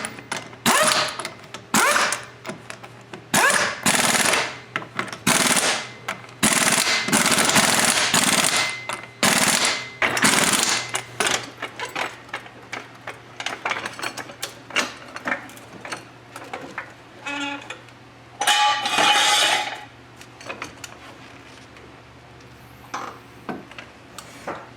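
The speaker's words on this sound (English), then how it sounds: "I'm just going to double check the lug nuts. Quick couple bursts." Bursts of an impact wrench rechecking the lug nuts on a Chrysler Sebring wheel, with the car back on the ground: several loud rattling hammering runs of a few seconds each, separated by short pauses and clicks.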